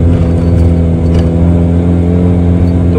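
A car engine in first gear revs high and steady while climbing uphill under a heavy load, with a loud, continuous droning hum and no pauses throughout.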